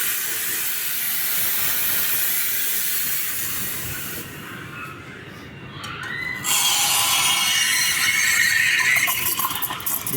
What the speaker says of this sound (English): When we steam milk, first we need to clean.